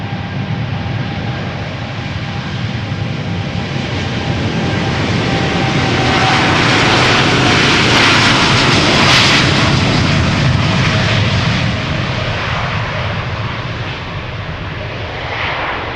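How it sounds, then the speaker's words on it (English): A three-year-old KLM Boeing 787-10 Dreamliner takes off from Amsterdam Schiphol bound for New York JFK, engines building into a loud, close roar that peaks midway and stays strong as it climbs away. "Next up, KLM flight 641, going to New York JFK, 787-10 Dreamliner"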